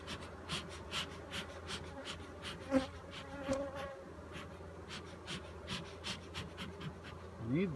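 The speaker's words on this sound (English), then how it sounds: "Bees are not happy with me." Bees buzz continuously at close range around a hive during an inspection, with individual insects zipping past the microphone and soft rustling underneath.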